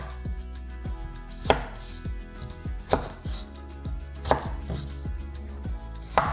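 A knife chops halved zucchini into small pieces on a board, a few sharp knocks recurring at a slow, even pace over a low steady hum, close and clear.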